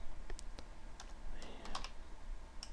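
Light typing on a computer keyboard in Notepad, sparse individual key taps close by over a steady low hum.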